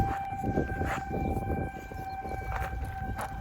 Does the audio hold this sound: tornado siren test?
yes